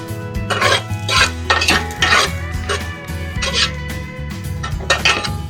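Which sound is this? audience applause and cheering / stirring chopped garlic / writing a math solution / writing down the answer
stirring chopped garlic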